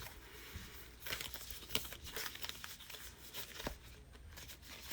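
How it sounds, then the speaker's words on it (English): Tarot cards being shuffled by hand, a run of dense papery riffling and crinkling flutters with sharper snaps, steady and close for several seconds with no talking. "Get a little shuffling going here."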